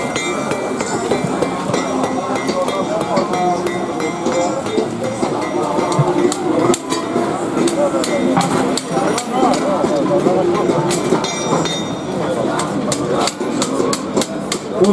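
A hammer drives a nail at a blacksmithing festival, a steady series of sharp metallic strikes heard up close. People talk and chatter around it the whole time.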